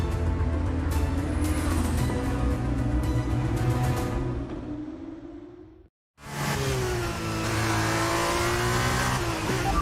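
A Formula 1 car on brand new tyres in the F1 2023 racing game, its engine screaming loud and close with rising, shifting revs. The sound cuts out briefly, then the high-pitched engine note returns just as strongly.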